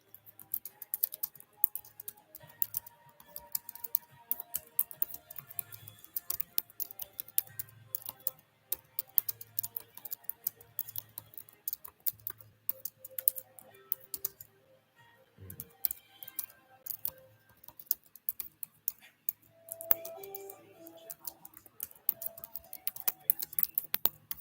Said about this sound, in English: I know I look weird when I'm typing. Sorry to make noises sometimes.